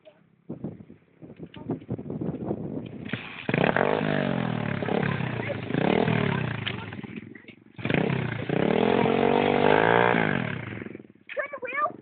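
A small pit bike engine putters, then revs up in two long, rising bursts with a whining pitch and drops back between them. People talk over it nearby.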